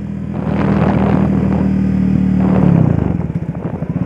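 A 2019 Honda CB Twister motorcycle engine hums steadily at about 5,000 rpm while riding near 40 km/h in second gear, then the pitch drops and the exhaust turns into lower, choppier pulsing as the rider shifts up.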